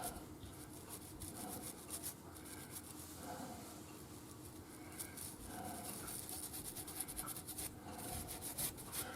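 A toothbrush dipped in alcohol scrubs the nut of a cheap Stratocaster-style electric guitar, giving a quiet, close, rapid back-and-forth bristle rubbing in short uneven bursts, with no talking.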